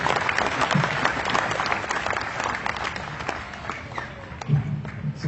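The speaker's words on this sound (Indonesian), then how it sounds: "tepuk tangan buat Pak Haji Andi" An Indonesian audience claps for a man named Pak Haji Andi, sustained crowd applause throughout with a faint voice murmuring in the background.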